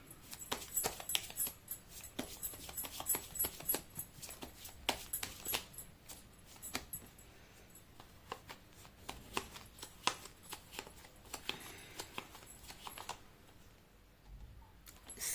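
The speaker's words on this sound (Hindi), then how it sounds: "मैं कर लेती हूँ कार्ड की शफलिंग।" Tarot cards being shuffled by hand, a long run of quick, soft riffling and slapping taps in close irregular bursts, fairly faint and without talk.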